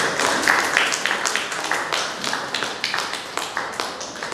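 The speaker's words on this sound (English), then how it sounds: "please give them a round of applause." An audience applauds at a Bharatanatyam lecture-demonstration session as accompanying artists take the stage, with steady dense clapping throughout, fairly close and moderately loud.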